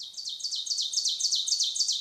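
Ovenbird song in a recording: a rapid, loud series of repeated bright two-note phrases, about ten in two seconds, steady and alone with no talk.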